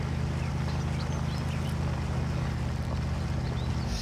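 A virtual off-road truck engine in Spintires labors under load, a steady low droning rumble with layered harmonics that holds constant and loud throughout, no voices.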